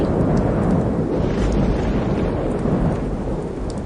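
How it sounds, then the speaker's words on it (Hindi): A sudden, unseasonal rain shower with thunder: continuous loud rain hiss over a deep, rolling rumble of thunder, steady throughout. "ये अचानक बेमौसम बारिश कैसे शुरू हो गई?"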